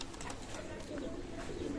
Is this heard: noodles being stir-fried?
no